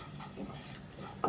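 Turmeric powder and crushed chili are stirred in a pan for a Kerala papaya stir-fry, making quiet scraping strokes over a faint sizzle, with a sharper clink of utensil at the end.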